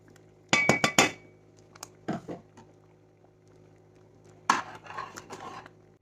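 Metal spoon clinking and scraping in a pot of wheat kheer sweetened with jaggery, several bright close clinks in short clusters separated by quiet stretches, with no talk.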